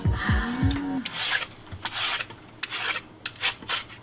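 Close, short scraping strokes of a knife peeling a lotus root, repeated in an uneven rhythm after a brief squeaky sound at the start.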